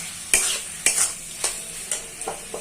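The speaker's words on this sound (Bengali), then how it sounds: "এইগুলো আমি ভালো করে কষিয়ে নেব" Mushrooms, tomatoes and green chillies stir-fried in a hot pan, with a spatula scraping and stirring in several distinct strokes over a steady background sizzle, close and fairly quiet.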